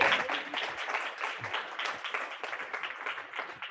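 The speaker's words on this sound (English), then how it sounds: "So please give him a warm round of applause." Audience applause at an evening retrospective talk by an artist, a dense, steady wash of many hands clapping indoors that carries on throughout without fading.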